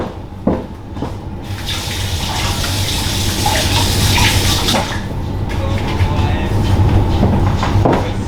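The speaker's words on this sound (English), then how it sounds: "My knife a little rinse." A knife being rinsed under a running kitchen tap, water gushing loudly and steadily into the sink, with a few clinks and shifts in the flow as the blade moves under the stream.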